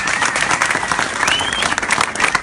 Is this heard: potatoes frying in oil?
no